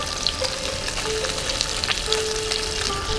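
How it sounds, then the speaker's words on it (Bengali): Koi fish fry a few at a time in a pan of hot oil, a loud, steady sizzle and crackle with occasional stirring and scraping. "সব কটা মাছ তো একসঙ্গে হবে না, আমি কয়েকটি করে ভেজে নিচ্ছি।"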